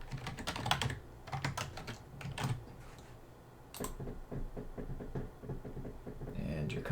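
Keys clatter on a computer keyboard in quick bursts of taps separated by short pauses, close and moderately quiet, with a voice speaking between and over the typing.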